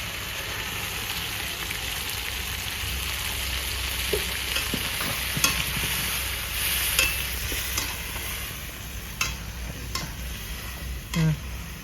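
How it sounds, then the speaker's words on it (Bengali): A paste of onion, tomato and green chili fries in a hot pan with ginger and garlic paste, a steady close sizzle broken by scattered spoon ticks and scrapes, no talking. "পেঁয়াজ টমাটো কাঁচা লঙ্কা সব পেস্ট করে নিয়ে চলে এসে ঢেলে দিচ্ছি"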